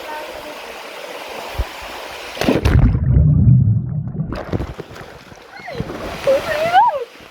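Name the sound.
splash of people jumping into water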